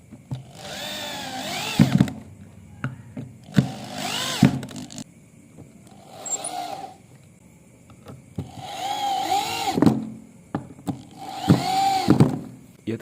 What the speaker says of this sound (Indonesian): Langsung saja kita sekrup di bagian sini.